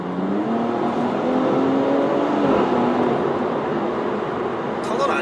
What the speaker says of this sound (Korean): 배기 사운드 또 이렇게 또 은은하게 이렇게 또 앰비언트 들어오고